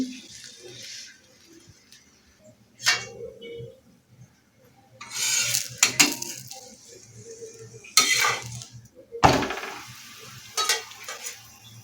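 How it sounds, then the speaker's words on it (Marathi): A spinach paratha is flipped and handled on a hot pan over low-to-medium flame, with a soft sizzle underneath and several sharp scraping and clattering bursts from the utensil against the pan. "यानंतर पराठा उलटून पाहते."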